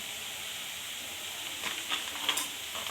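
Ginger garlic paste fries and is stirred in a pan for a restaurant-style chicken gravy, giving a steady, soft sizzle with a few light scraping stir strokes toward the end, fairly faint and with no talking.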